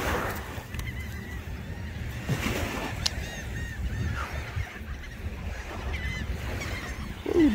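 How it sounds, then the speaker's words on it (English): A flock of seagulls calling near the water off Tampa Bay's Passage Key, with repeated overlapping squawks and cries over a constant rushing background. "Ooh, look at all these seagulls"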